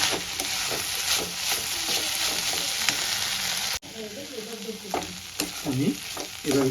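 Fish roe fries in a pan with flat beans and potato over a raised gas flame, making a dense, close sizzle mixed with scraping stirs; a brief break midway gives way to more uneven stirring and crackle.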